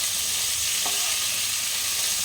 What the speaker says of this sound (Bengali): একটু লাল লাল করে ভাজতে হবে